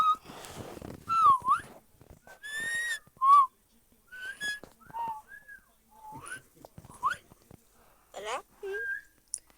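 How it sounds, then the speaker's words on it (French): Someone whistles repeatedly in short rising and falling tweets, close by, scattered through steady background talk and noise. "T'arrêtes de siffler, moi je sais pas siffler."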